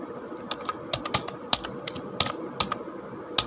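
Arduino code being typed on a computer keyboard, a close run of crisp, irregular key clicks, some quick and clustered and others spaced apart, with light background hiss and no speech.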